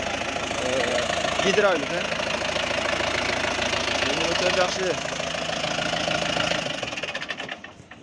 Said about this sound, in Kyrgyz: Traktör жүріп тұрады.